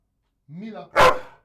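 A pet dog barks once on command, a single sharp, loud bark coming right after a short spoken cue from a person nearby.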